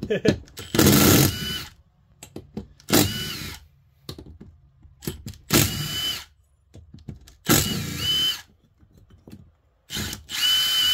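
Impact wrench removing cylinder bolts from a Honda Elite AF05 scooter, loud short bursts of whirring and hammering repeated about half a dozen times with quiet gaps between them.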